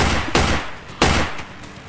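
Gunfire sounds in a crime documentary about a man waving a gun and firing. Two loud, sharp bursts land about a second apart, each followed by a short reverberant decay, over a noisy background.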